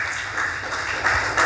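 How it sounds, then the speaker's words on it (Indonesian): A church congregation applauds in praise of Jesus, a brief burst of dense clapping heard fairly close and steady, swelling slightly toward the end. "Berikan tepuk tangan buat Tuhan Yesus."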